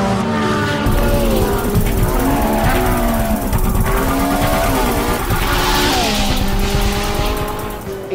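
Loud Ferrari 458 sports car with a new 570-horsepower engine, revving hard and continuously as it accelerates with rising and falling engine tones, tire squeal mixed in near the end.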